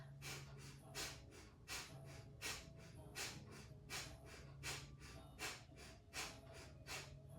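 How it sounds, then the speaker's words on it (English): Breath of fire yoga breathing: rapid, rhythmic forceful exhales through the nose, about one and a half per second, steady and close, with no talk over them. "let's just practice for a moment doing the breath of fire"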